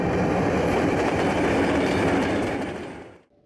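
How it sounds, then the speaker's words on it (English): A freight train runs on the Southwest Portland Cement rail line in California, hauling between a limestone quarry and a cement plant, with a loud, dense, steady rumble and wheel clatter close by that fades out abruptly at the end. "The Southwest Portland Cement Rail Line connects the limestone quarry at the base of Sidewinder Mountain to the cement plant in Victorville,"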